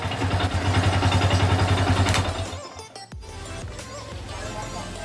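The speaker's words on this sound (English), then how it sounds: "itatry naman natin patayin yung makina gamit yung ginawa nating kill switch." A motorcycle engine idles loud and close with a steady thrum, then cuts out abruptly as a homemade anti-theft kill switch shuts it off, leaving quieter background noise with some faint clatter.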